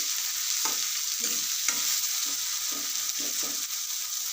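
Softened tomatoes and onions sizzle steadily in a pan as Gujarati moong dal cooks, with a bright continuous fry and several soft stirring scrapes close by, no voices.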